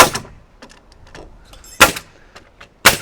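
Framing nail gun firing on a mini cabin build: two loud, sharp bangs about a second apart near the end, with softer knocks and handling sounds before them.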